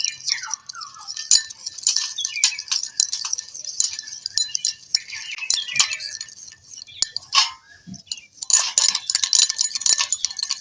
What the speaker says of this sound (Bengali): এক চামচ কফি আর এক চামচ চিনি আর চার চামচ জল এবার এটা আমি ফাটাতে থাকব